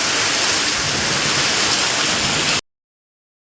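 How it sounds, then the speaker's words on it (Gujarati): A dense roar of heavy rain pours down steadily, loud and close, then cuts off abruptly into silence. "આમાં બહુ વરસાદ પડવા મળ્યો"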